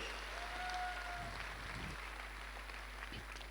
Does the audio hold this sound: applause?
yes